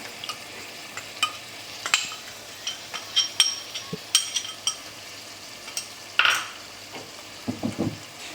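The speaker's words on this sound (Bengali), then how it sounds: "এবার এই মশলা আমাদেরকে খুব ভালোভাবে কষিয়ে নিতে হবে" Ground spices fry in a pan for soybean curry, a soft sizzle broken by frequent scrapes and clinks as a spoon stirs them near and clear.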